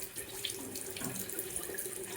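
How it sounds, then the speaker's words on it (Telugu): A tap runs steadily into a sink while someone rinses their mouth, a faint, continuous trickling flow heard close with no talk. "నోటి నిండా నీళ్ళు వేసుకొని పొక్కలించు"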